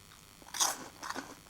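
Sweet popcorn crunched in two close bites, one short crackling burst followed by a second, softer round of crunching, with no talk over it.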